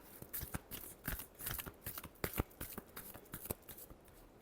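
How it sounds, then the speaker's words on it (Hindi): Tarot cards are being shuffled by hand: a quick series of crisp riffles and slaps in uneven bursts, close and fairly quiet, with no voices. "last shuffle"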